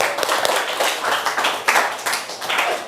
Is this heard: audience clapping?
yes